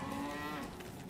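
Cows moo in the secret cow level of Diablo II, the video game; a single drawn-out bovine moo with rich harmonics fills the short moment, loud and close, with no talk over it.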